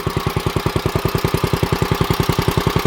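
A 1955 Wheel Horse Senior garden tractor engine runs with a rapid, even putter of regular firing pulses, loud and close, holding steady with no voices.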